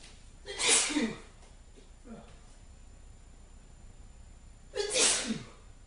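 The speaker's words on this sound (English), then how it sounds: "I know that I'm going to sneeze again." A man sneezes twice, each a loud sharp burst with an intake of breath before it, separated by a few seconds of quiet breathing and a small sniff.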